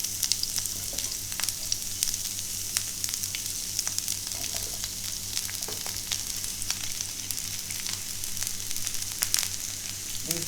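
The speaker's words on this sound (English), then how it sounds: "So these are now going to be sauteed." Vegetables for a potato rosti sauteing in a pan, a steady close sizzle and crackle with occasional stirring clicks, and no voices.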